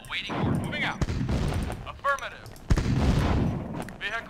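Artillery fire in the 1995 strategy game Command & Conquer: Tiberian Dawn, with repeated booming shots and bursts of gunfire over a busy battle soundscape, mixed with game voice responses.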